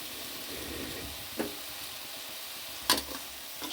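Soya chunk curry frying in a pan with masala powder stirred in, a steady low sizzle broken by a couple of soft knocks from the spoon against the pan.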